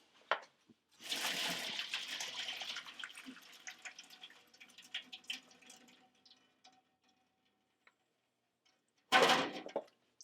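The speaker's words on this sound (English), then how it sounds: "Now while that's browning, we're going to take our potatoes and drain them." Boiled potatoes are drained in a kitchen: water splashes and pours in a loud rush that trickles away into scattered drips, followed by a short sharp clatter at the end.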